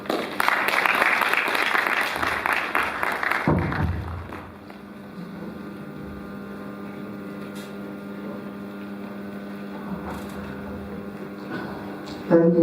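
An audience at the CSIR College of Science and Technology graduation congregation applauds after the college president's speech. The loud, full clapping lasts about three seconds, then dies away into a quiet hall hum.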